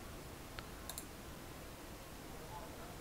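A computer mouse on a PC gives a few faint, quick clicks while the DS4Windows program is opened, set against a steady low background hiss.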